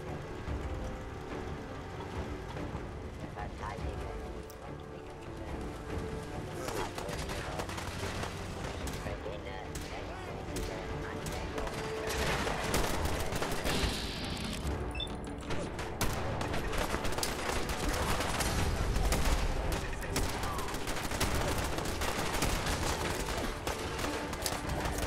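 Gunfire from fights with enemies in Fallout 4, repeated shots and bursts through a long stretch of game sound, rising in density toward the end, with a voice talking over much of it.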